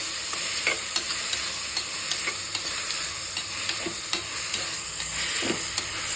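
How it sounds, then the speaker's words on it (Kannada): Tomatoes frying in a pan for tomato bath, a steady close sizzle with repeated soft stirring scrapes of a spoon through the pan, no talking. "ಈಗ ನಾವು ಟೊಮ್ಯಾಟೊ ಹಾಕ್ಕೊಂಡು ಫ್ರೈ ಮಾಡ್ತಿದ್ದೀವಿ."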